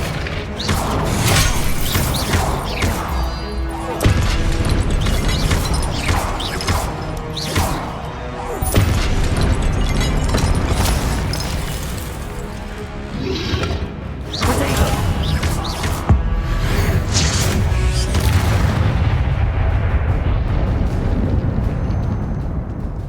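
Repeated Confringo fire spell explosions from Hogwarts Legacy, with booming blasts and crashing impacts in dense succession over a continuous loud game soundscape throughout.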